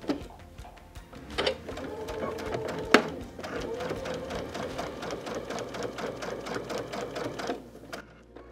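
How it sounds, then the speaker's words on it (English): A sewing machine runs steadily, stitching along the edge of a quilt-as-you-go patchwork block. The needle rattles fast and evenly up close, with a brief louder knock partway through and no talking. "when you're sewing on the edge, if you feel that the edge is getting wavy"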